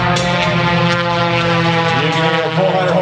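A 400-horsepower aerobatic propeller airplane roars past at an air show, a loud, steady engine drone with shifting pitch as it sweeps by close overhead.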